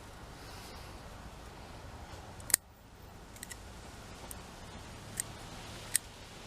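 Scissors trim a healthy twin-trunk Japanese larch bonsai in a rough cutback, giving a few sharp, isolated snips spaced across quiet outdoor air with faint wind.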